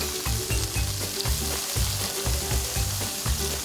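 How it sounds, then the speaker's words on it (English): Cherry tomatoes blister in a hot frying pan with a loud, steady sizzle and crackle, broken by a repeated low rhythmic knocking as the pan is moved or stirred, close and without voices. "we're going to throw in our cherry tomatoes. We're going to let those blister just a little bit"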